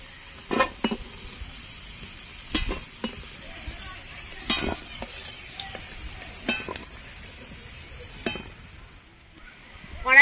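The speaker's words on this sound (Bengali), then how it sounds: "এবার আলুগুলো ভালো করে ভেজে নেব।" Potatoes with salt and turmeric fry in a pan under a faint, steady sizzle. Several sharp metallic clinks and scrapes of a spatula against the pan are spaced out over it.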